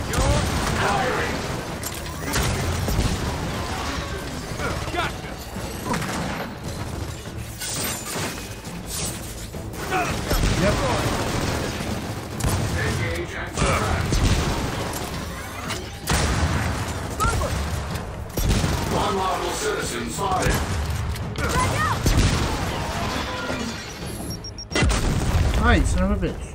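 Gunfire and explosions from Gears of War 4 combat, a dense barrage of booms and bursts that runs throughout, with someone talking loudly over the action.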